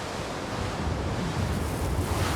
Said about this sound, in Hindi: कुछ ही देर में तेज हवाएं चलने लगीं